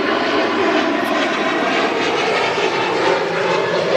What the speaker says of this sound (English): Emirates Flight 17, the A380-800 series aircraft